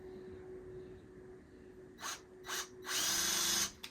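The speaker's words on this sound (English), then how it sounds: "you can start off with it spinning backwards and it'll sort of pilot drill it" A power drill whirs in two short bursts while pilot drilling at an angle in reverse, then runs longer at higher speed, close by with a steady hum underneath.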